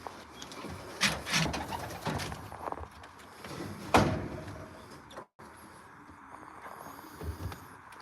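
Pigeons in a racing loft coo and call in a steady, moderately loud stream, with scattered rustles and a couple of door-like knocks among them and no talk over them.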